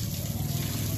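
Water splashes steadily over a dog being bathed in summer, a continuous close trickling and pouring with a low pump-like rumble underneath, no talking.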